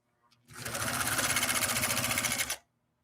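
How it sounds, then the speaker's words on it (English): A Husqvarna Viking automatic sewing machine stitches at full speed for about two seconds, a steady, dense, fast mechanical whir with a rapid needle rhythm that starts and stops abruptly, close up and alone. "I can sew at full speed. So I'll just go ahead and hit the gas."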